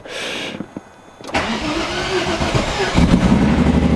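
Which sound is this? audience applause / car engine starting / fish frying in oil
car engine starting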